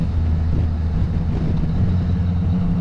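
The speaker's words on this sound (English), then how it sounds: "A little bit of wind noise, not too much." Steady wind rush and low engine drone while riding a 2016 Yamaha MT-09 Tracer motorcycle at speed, continuous and fairly loud with no talk.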